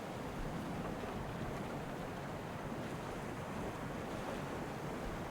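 A wooden raft sails across a river in the survival crafting game Stormforge, with a steady broadband wash of water and wind rushing continuously at an even level.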